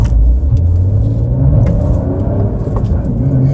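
A BMW 435i ZHP engine drones with a steady, loud rumble from inside the cabin on a twisty road, the pitch rising slightly as the car pulls through the bends.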